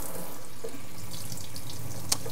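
A kitchen tap runs steadily into a sink with an even, hissing water flow, close and continuous, with one brief clink near the end and no talking.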